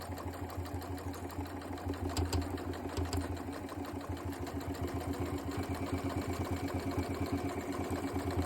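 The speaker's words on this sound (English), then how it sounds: "on these seams right here where everything met together, you need to make sure that you go slow so that you don't break your needle" Sewing machine stitching the seams of a cotton bowl cozy, a steady rapid mechanical chatter running continuously at close range, with no talk.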